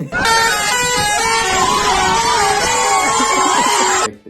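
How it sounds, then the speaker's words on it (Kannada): A loud, close vehicle horn blares in one sustained musical blast lasting about four seconds, its pitch wavering like a tune before it cuts off abruptly. "ಸೊ ಹಾರ್ನ್ ಹಾಕು"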